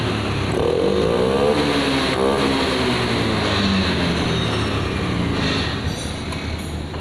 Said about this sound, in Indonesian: dan motor pun bisa digas dengan enak ya.